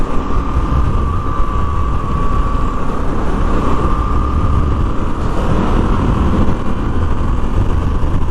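Moto Guzzi V7 Stone motorcycle with six-speed transmission cruising on a highway, a loud constant engine drone blended with heavy rushing wind noise, close and continuous, no speech.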